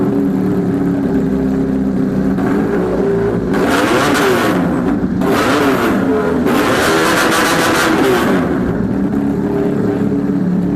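A sport bike at a Karachi sport-bike spot revs loudly during a sound check, with repeated throttle blips and surging bursts over a steady running engine, up close and dominating the scene.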